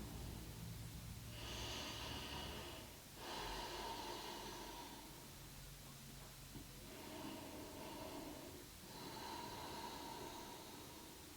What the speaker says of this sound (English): And then breathing deeply, in and out.